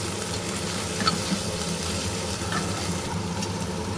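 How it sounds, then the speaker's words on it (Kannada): Chopped onion frying in a pan toward golden brown, giving a steady close hiss and crackle with a few faint stirring scrapes and no voices. "ಈರುಳ್ಳಿನ ಚಾಪ್ ಮಾಡ್ಕೊಂಡಿದ್ದೀವಲ್ವಾ ಅದನ್ನು ಸಹ ಹಾಕ್ಕೋಬೇಕು ಹಾಕ್ಕೊಂಡು ಈ ಥರ ಫ್ರೈ ಮಾಡ್ಕೋಬೇಕು"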